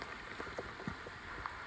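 Light rain patters steadily around a hiker on the Skyline backpacking trail in Jasper National Park, with scattered individual drops ticking over a soft continuous wash.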